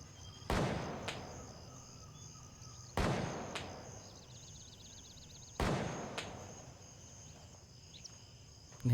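Three sharp gunshots from a weapon in the video game Gray Zone Warfare, heard before a sound update and spaced about two and a half seconds apart. Each report fades into a short echoing tail over a chirping, insect-filled outdoor ambience.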